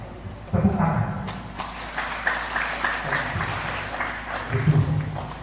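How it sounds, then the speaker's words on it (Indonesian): A crowd breaks into applause at a Catholic parish youth gathering and competition in Nias Barat: dense, steady clapping that swells and holds for several seconds, with voices mixed in beneath it. "Tepuk tangan."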